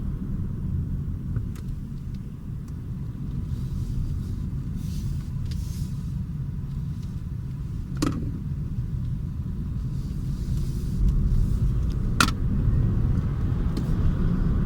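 Car interior while driving, a steady low road rumble and engine hum heard from inside a spacious cabin, with a couple of faint clicks and no talk.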